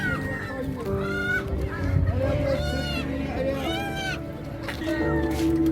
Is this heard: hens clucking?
yes